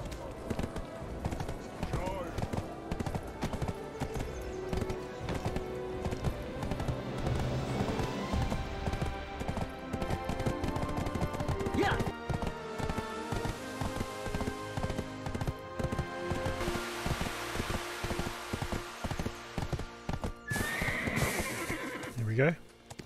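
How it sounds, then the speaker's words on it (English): Hooves clip-clop steadily as a horse is ridden in the video game Black Desert Online, with neighs and whinnies, rain pattering, and background game music; a voice speaks over parts of it. "Okay, let's get on the horse."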